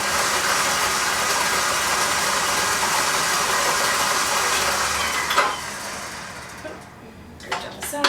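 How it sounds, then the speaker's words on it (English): A stand mixer kneads cream cheese pastry dough with a steady, loud whirring drone. It stops about two-thirds through, leaving a few light clatters and knocks. "I'm going to turn my mixer back on"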